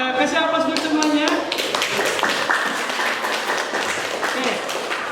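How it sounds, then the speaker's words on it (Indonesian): Audience applause and clapping in a teaching-practice session at IAIN Surakarta, a dense, steady wash of many hands filling the room, with a voice audible over it near the start. "kasih aplaus buat semuanya"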